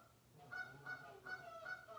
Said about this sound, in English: these ducks are always arguing